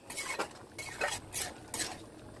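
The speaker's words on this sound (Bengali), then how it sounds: "এরপর নেড়ে দিলাম" Dal with pui shak being stirred in a pot: several soft scraping, clinking strokes of a spoon against the metal, spaced irregularly and heard close with no talk.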